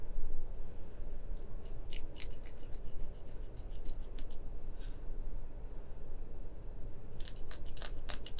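Scissors or a blade trimming the fins off a large fluke flounder, giving close, repeated rasping snips in quick bursts over steady background noise, with no talk.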